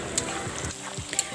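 Ground spices frying in oil for rendang jengkol, a brief soft sizzle with a couple of sharp pops and light stirring scrapes.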